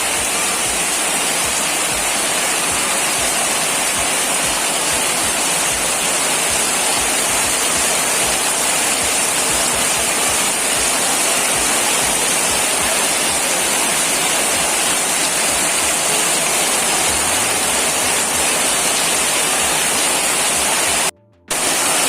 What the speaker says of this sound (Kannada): ಇವತ್ತು ಬಹಳಷ್ಟು ಜೋರು ಮಳೆ ಬರ್ತಾ ಉಂಟು